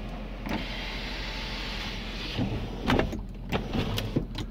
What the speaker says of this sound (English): Now the sunroof opens and closes.